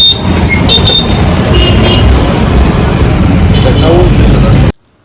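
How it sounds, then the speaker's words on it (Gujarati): Road traffic rolls past the Kalavad bus stand at about three in the night, a dense, loud wash of engine and road noise that stays constant before cutting off abruptly at the end. "હવે ટ્રાફિક થાય"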